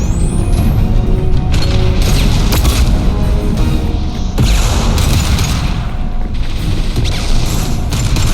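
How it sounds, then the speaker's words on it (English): Concussive shot firing in the video game Mass Effect: heavy booming blasts and mechanical clanks over a loud, dense combat din, with sharp impacts near 1.5, 4.4 and 6 seconds. "Firing concussive shot"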